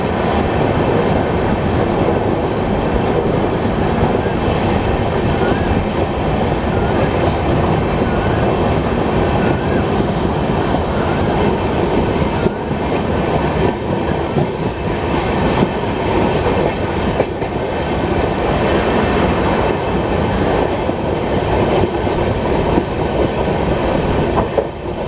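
Passenger train between Miraj and Pune on the Bhusawal to Bengaluru route, heard from inside a carriage: a steady, loud rumble of wheels on rails with faint clickety-clack throughout, no voices.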